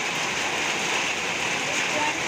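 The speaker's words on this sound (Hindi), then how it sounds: "बारिश ही बारिश चल रही भाई साहब पूरी, कहीं से कहीं तक।" Heavy rain pours down steadily and loudly outside a rented house, a dense hiss with no break.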